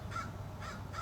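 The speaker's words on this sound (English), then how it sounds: "What kind of bird is that? Crow?" A crow gives three harsh caws in quick succession, moderately distant and fairly faint, with no voices.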